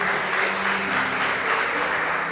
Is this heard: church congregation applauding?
yes